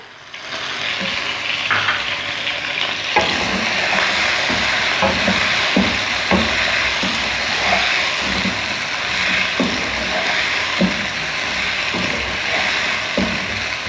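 Chicken sizzles steadily in hot oil in a karahi with ginger garlic paste and salt, a continuous loud frying hiss broken by rhythmic scraping knocks of a spoon stirring.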